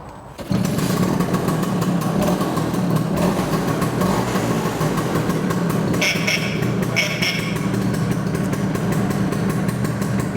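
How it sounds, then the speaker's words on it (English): A restored 1965 Vespa GL 150 scooter, running a little louder than original, starts up with a quick catch and settles into a steady, loud, buzzy idle that runs on without talk. "So pretty much the classic Vespa sound."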